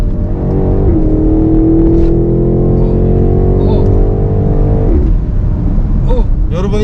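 A BMW X7 M50i engine in Sport Plus mode with sport gear shift revs under light throttle, a deep, loud, sustained rising growl that holds and then drops off, with people talking in the car throughout.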